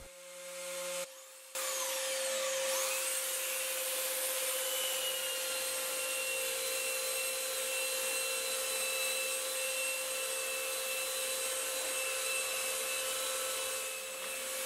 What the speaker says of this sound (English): I start by using my Trend Palm sander.